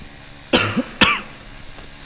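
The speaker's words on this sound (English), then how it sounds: "I apologize for the cough." One person with a cold gives two loud, close coughs, the second following about half a second after the first. Quiet room tone in a tattoo studio comes before and after, with no other sound around them.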